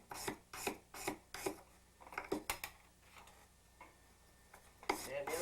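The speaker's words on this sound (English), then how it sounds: "Sanding paper." Sandpaper rubbed back and forth against a gold ring during ring sizing, a series of rhythmic rasping strokes close up, with a pause midway before the strokes resume.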